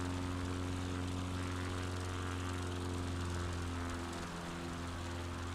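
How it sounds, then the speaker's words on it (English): A light propeller bush plane in flight over the Apennines, its engine giving a loud, steady droning buzz with strong even tones that fills the whole stretch without a break, and no voices over it. "Why does this plane want to stay in the air so much?"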